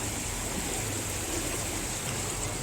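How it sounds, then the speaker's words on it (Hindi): Rushing water pours fast under an old stone bridge as a loud, continuous, broadband roar that fills the scene with no other sound. "पानी की कलकलाहट आवाज़ सुनाई दे रही है।"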